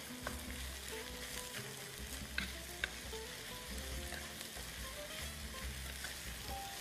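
Onion soup in a pot being stirred over heat, a steady low sizzle and bubbling with a couple of faint spoon knocks, close by and with no talking.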